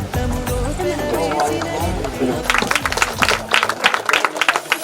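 Crowd applause at a wedding, loud and sustained, with sharp, uneven clapping that grows denser and more scattered in the second half, alongside a steady background murmur.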